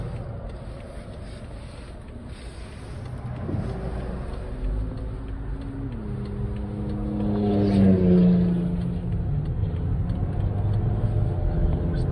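A 2017 BMW X4 xDrive28i engine revs up and pulls away, pitch climbing smoothly then dropping briefly between smooth automatic gear shifts, with wind noise over a steady interior hum.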